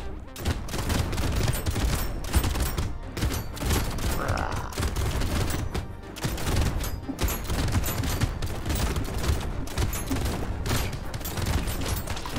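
Dense, continuous gunfire from a boss enemy and the player in the video game Brotato, a relentless barrage of rapid shots and impacts that fills the scene loudly without pause.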